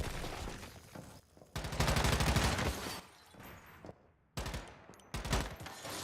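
Submachine gun fire in a video game comes in several rapid bursts of quick, clattering shots. Short gaps and muffled game background separate them, and the volume rises and falls between bursts.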